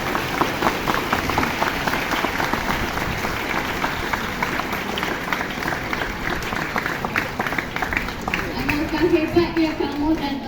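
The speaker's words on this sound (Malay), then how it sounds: "Beri tepukan yang kuat dan penuh" Loud, continuous applause from a school audience of students and parents, dense clapping that holds steady with voices mixed in toward the end.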